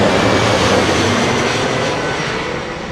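An Iberia airliner arriving at Heathrow roars loud and close, a dense engine rumble that eases slightly toward the end, with no speech.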